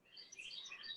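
A pet parrot gives quiet, high chirps and tweets, a faint rapid string of calls heard from some distance.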